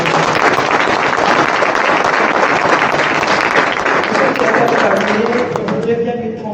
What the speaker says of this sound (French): J'aimerais qu'on applaudisse très fort ce ministère.